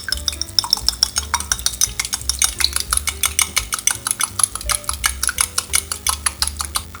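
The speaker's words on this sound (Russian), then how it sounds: "теперь взбиваем яйцо" An egg being whisked in a bowl while making a mushroom meat roll in filo pastry: a fast, even run of close metallic clinks and taps that goes on without a break.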